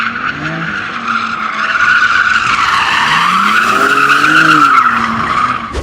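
A BMW M3 driven hard while drifting, its tires skidding in a loud, continuous squeal with an engine note swelling and falling beneath it.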